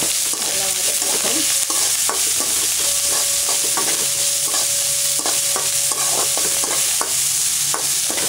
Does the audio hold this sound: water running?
no